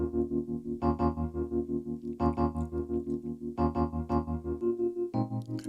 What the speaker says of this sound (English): So once I added this tremolo to it,